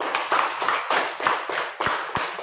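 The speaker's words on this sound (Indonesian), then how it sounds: "Berikan tepuk tangan dulu kelompok 1 dulu" A classroom claps for a group of students, a few loud, uneven rhythmic bursts of hand claps close by, roughly in patterned beats with short gaps.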